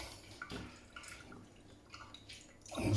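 Diluted non-rinse sterilizer solution is poured out, giving soft splashing and dripping in a few uneven bursts, fairly quiet, with a louder gush at the end.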